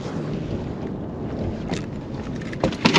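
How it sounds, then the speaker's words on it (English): Wind buffets the microphone on an open boat while fishing for blue catfish on flooded water, a steady close rumble and roar throughout with a few louder gusts near the end; no one speaks. "Hopefully you can hear me with that wind blowing."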